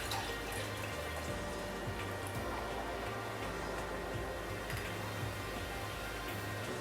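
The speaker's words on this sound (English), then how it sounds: "Then we're going to top that off with sparkling wine." Sparkling wine is poured over ice into a cocktail glass, making a continuous fizzing, splashing pour with soft drips and crackles, close and steady throughout.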